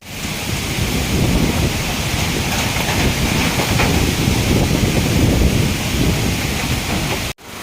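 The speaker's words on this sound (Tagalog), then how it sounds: "Sobrang lakas talaga ng hangin." Strong typhoon wind roars continuously, loud and gusty, a broad rushing noise that never lets up.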